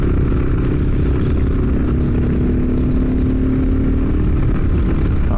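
A 2022 Kawasaki KLR650 with an aftermarket slip-on exhaust, airbox and fuel controller, ridden two-up at low speed, gives a steady, loud engine drone with a low rumble and wind noise throughout, no pauses.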